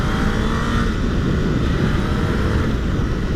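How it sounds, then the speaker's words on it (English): A convoy of garbage trucks rolls past, a steady, loud, broadband roar of heavy engines and tires that holds constant throughout with no pause or voices. "It's a convoy of garbage trucks"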